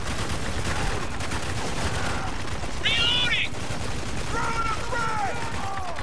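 Rapid bursts of gunfire from the video game Spec Ops: The Line crackle over a dense, steady game soundscape. A voice talks over the shooting.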